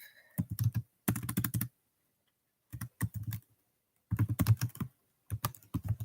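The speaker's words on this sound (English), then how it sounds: "I don't know why I'm having a hard time typing this stuff right now." Computer keyboard typing in several quick bursts with pauses between, close and fairly loud, no talking.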